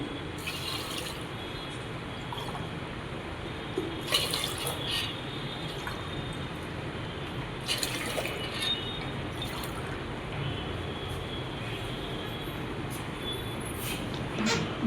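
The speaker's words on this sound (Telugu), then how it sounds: "దీనికి సరిపడా నీళ్ళు 5 గ్లాసులు వేస్తున్నాను" Water poured from a glass into a pot of rice and lentils in AMC cookware in a home kitchen, a steady splashing stream running throughout with a few louder pours.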